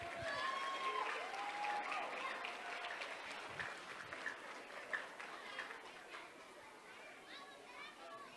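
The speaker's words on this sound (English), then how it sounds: "let's give Miss Shwiso's class another big round of applause" At an elementary school fifth-grade celebration, an audience gives a class a round of applause, with soft, dense clapping mixed with children's chatter and voices in a large, echoing room.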